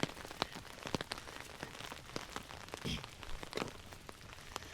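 Heavy rain falls on a golf umbrella while walking the Portuguese Camino, a dense patter of close, sharp drops with scattered louder hits throughout.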